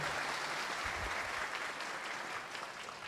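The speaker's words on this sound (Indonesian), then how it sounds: "Kita sambut dengan tepuk tangan untuk Buya Yahya." A crowd at a Sinau Bareng religious-cultural gathering breaks into steady, dense applause welcoming a preacher, sustained and fairly loud through the whole stretch with a faint voice or two underneath.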